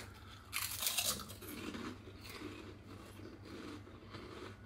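Crisp crunching of a smoky bacon-flavoured Romanian snack chip being bitten, a loud burst of crackle followed by steady, softer chewing crunches close to the mouth.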